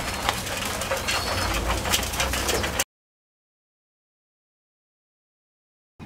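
Racing pigeons cooing in a loft, a dense, close murmur of overlapping coos with wooden rustling for almost three seconds, then abrupt silence.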